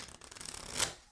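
Tarot cards being shuffled by hand, a short close-up burst of riffling and sliding card noise that ends in one brighter snap before quick quiet.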